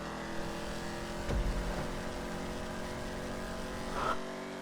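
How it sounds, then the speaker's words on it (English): An Imponte Dukes car in a video game accelerates along a straight, its steady engine drone holding at an even level for several seconds with a couple of brief swells and whooshes, loud and continuous. "here's my longer straight, which just basically lets the car get up to speed"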